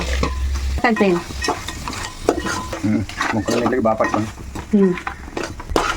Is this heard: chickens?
no